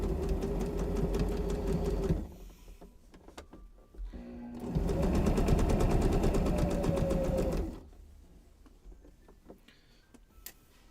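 A sewing machine stitches a skirt in two loud, rapid runs of rhythmic needle clatter, separated and followed by quieter pauses with faint handling sounds and no talking.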